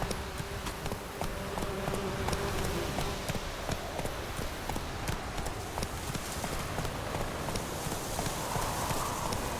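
Roach the horse gallops in The Witcher 3, steady rapid hoofbeats clip-clopping close and continuous over a game soundscape.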